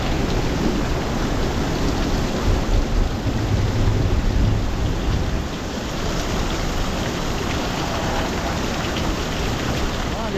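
Heavy rain pours steadily with a dense hiss, heard from shelter in a cave, while low thunder rumbles underneath; no voices are heard over the downpour.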